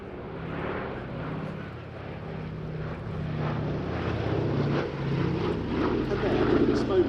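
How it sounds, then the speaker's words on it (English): Four-engined Boeing B-17G Flying Fortress making a final pass at a military airshow, its propeller engines producing a steady, broad drone that swells slightly as it passes, with a commentator talking over it. "The final pass from Boeing B-17G Flying Fortress, Sally B."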